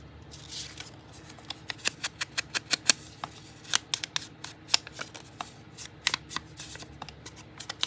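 Scissors snipping around a folded and glued piece of packing paper for a handmade gothic booklet, a quick, irregular series of close, crisp cuts with brief pauses between them.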